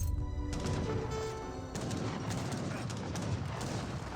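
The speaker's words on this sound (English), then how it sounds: "Mortar being deployed now." Mortar and cannon fire in an Age of Empires 3 match, sharp booming blasts with crashing impacts and dense battle noise, repeated several times at a steady level.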